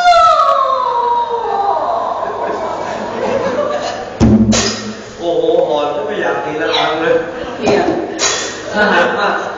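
A person imitates a dog's howl, a long wavering vocal wail that rises and falls, followed by further drawn-out howling cries close to the listener.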